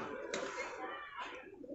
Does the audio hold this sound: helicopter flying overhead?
no